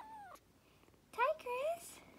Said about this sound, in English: Cookie is seeing for the first time our cute little foster kitten, Tigress